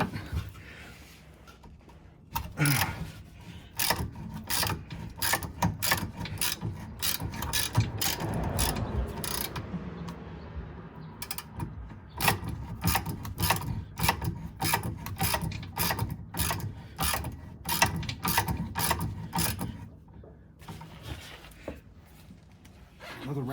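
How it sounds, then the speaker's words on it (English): A ratchet clicking as it turns, rapid repeated clicks in bursts over a long stretch, close and fairly quiet with brief pauses between runs. "Well, the ratchet's moving"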